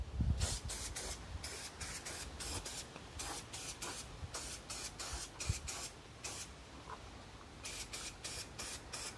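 A can of black spray paint sprays at a workstation, a steady hissing jet broken into repeated short bursts with brief pauses, close and fairly quiet throughout.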